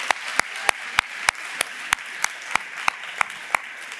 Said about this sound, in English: Maybe you can stand up and we can all clap and say something for them.